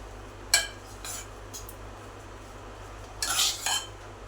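A spoon scrapes and clinks against a dish while stirring chapati sandwich filling spiced with chaat masala and red chili powder. There are a few sparse taps early on and a busier cluster of clinks near the end, in an otherwise quiet kitchen.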